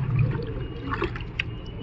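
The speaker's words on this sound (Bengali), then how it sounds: "জলটাকে ভালো করে" Water mixed with garlic being stirred in a container for pigeons, giving a short, close liquid swish and trickle with no talk.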